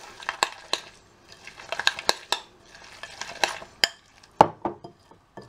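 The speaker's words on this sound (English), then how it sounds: "And then just give that a mix through" A spoon stirs apple and custard overnight oats with nutmeg in a bowl, giving a close run of irregular clinks and scrapes against the dish with soft mixing sounds between them, and no talking.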